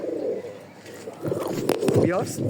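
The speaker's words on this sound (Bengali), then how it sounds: "আর কবুতর ডাকটা কি দেখেন" Pigeons, including an American muffed long-face pair, coo nearby in soft, throaty bursts, with a brief rising call near the end, over low background noise.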